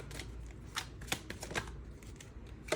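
Tarot cards being shuffled by hand before a single card is drawn, a close series of crisp riffling and slapping bursts in an uneven rhythm, with no talking.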